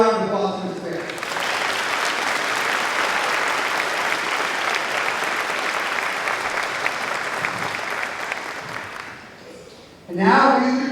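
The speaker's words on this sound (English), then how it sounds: "How about another round of applause for Mr. Bear?" Sustained audience applause at a high school class night and graduation ceremony for the class of 2026, a dense, steady wash of clapping lasting about nine seconds, with talk briefly heard before it starts and again as it fades.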